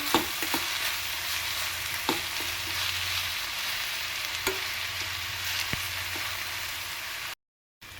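Onion palya being stirred and fried in a pan produces a continuous soft sizzle with occasional sharp clicks of a spoon against the pan, cut by a brief silence near the end.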